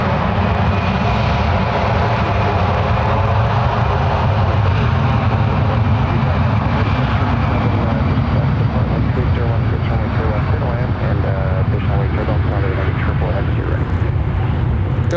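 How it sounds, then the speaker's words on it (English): A Delta Boeing 757-300 on its takeoff roll from runway 1 left at San Francisco International, a loud continuous jet roar that holds steady throughout, heard from nearby with faint voices in the mix. "Here we go, 757-300 departing off the ones real quick."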